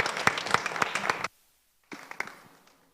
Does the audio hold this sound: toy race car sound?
no